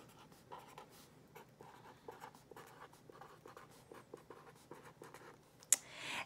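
A pencil scratches across paper as a name is written for a Very Hungry Caterpillar writing activity, a steady run of soft, close strokes and taps, with a sharper knock near the end.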